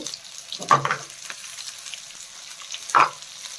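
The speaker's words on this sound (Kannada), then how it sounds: "ಇದನ್ನೆಲ್ಲ ಚೆನ್ನಾಗಿ ಫ್ರೈ ಮಾಡ್ಕೋಬೇಕು" Green chillies, ginger, mint and coriander leaves fry in oil in a pan, a soft sizzle broken by two brief louder bursts of stirring.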